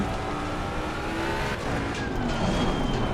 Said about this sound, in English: I heard the wheels sliding more than ABS kicking in that time